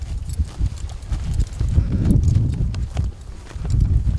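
Horse hooves clip-clop loudly and close during a ride in Mongolia, a continuous uneven thudding of steps with rustling and low rumble throughout.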